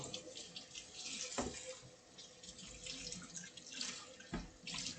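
Tap water runs into a sink during handwashing with soap, a soft steady splashing stream with a couple of louder splash bursts, fairly faint and without speech.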